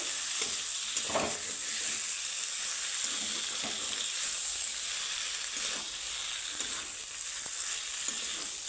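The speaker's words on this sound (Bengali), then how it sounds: "ভেজে রাখা সিম তো সিমের সাথে আমি এভাবে একটু মিক্স করে নেব" Fried flat beans (shim) with boiled potato being mixed and frying in a pan, a continuous sizzle punctuated by soft stirring scrapes every second or so, close and even, no talk.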